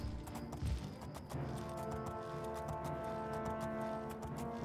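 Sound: horse hooves while riding, from video game Oblivion

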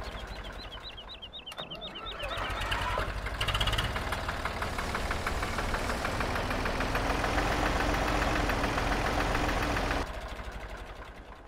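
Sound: old tractor engine starting, video game

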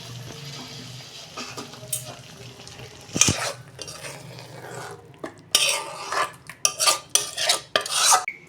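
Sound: pouring out cooked ridge gourd and potato vegetable curry

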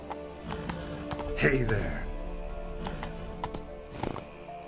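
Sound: horse Roach hooves clip-clopping, from video game The Witcher 3

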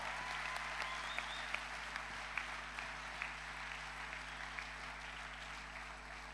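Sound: audience applause for graduates

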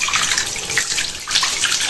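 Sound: dark water running from village taps

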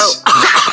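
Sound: voice imitating a phlegmy cough-like noise

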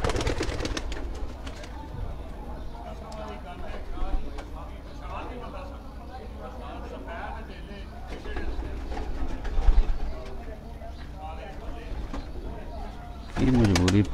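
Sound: pigeons cooing on a rooftop

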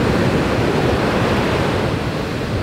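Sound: ocean waves breaking at Pipeline surf

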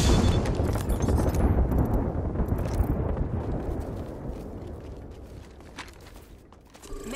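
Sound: Bangalore artillery strike explosions in Apex Legends video game

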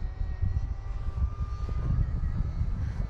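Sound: Ultrix RC plane flying right overhead

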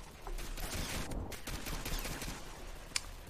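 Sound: gunfire from Pixel Strike 3D video game

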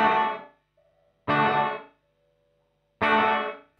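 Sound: electric guitar through noise gate effect

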